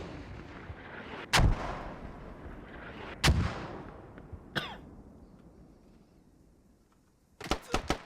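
Grenade blasts and gunshots in a multiplayer video game match, several sharp loud bangs spaced apart over low ambient rumble, ending with a quick cluster of shots.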